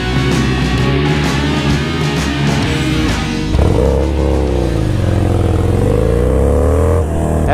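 A Harley-Davidson Sportster motorcycle revving through clutch bumps, its engine close and loud, rising and falling in pitch with a rough, throaty surge near the middle.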